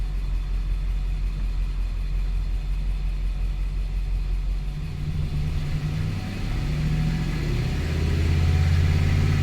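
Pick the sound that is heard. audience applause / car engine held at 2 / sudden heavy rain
car engine held at 2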